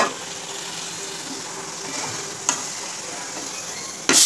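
Water saved from rinsing spices is poured into a chicken curry frying in a pan. The steady sizzle flares into a loud burst of hissing near the end.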